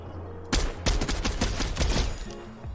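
Rapid gunfire in the video game Fortnite, a dense burst of shots and impacts that starts abruptly and continues loud and busy for about two seconds before easing off.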